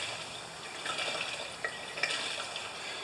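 Fuel pours through a filtered funnel into a new 3550-watt portable generator, a steady soft trickling liquid sound with a few faint drips and splashes, heard alone.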